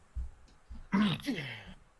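A single sharp, close sneeze bursts out after a couple of soft breathy sounds, followed by a brief tail of voice.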